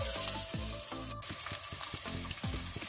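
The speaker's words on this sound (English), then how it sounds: "let's give this a quick saute. To this, I'm gonna add 1/2 sliced red onion." Half a sliced red onion sautéing in oil in a pan for sambhar, a soft, continuous sizzle with faint stirring taps and scrapes, no talking.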